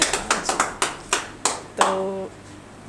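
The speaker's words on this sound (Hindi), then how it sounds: "जोरदार तालियां।" A short burst of scattered hand clapping from a few people at an open mic, about a dozen sharp claps, with a brief voice cutting in near the end.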